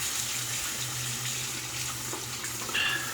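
Bathroom water tap running steadily into a sink while rinsing off after a shave, a close, continuous hiss of flowing water.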